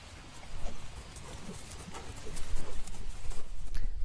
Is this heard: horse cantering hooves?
yes